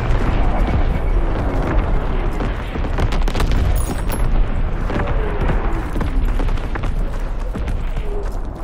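Continuous artillery barrage in a WW2 video game, loud dense rumbling booms rolling without pause, with scattered sharper blasts layered over a constant low roar.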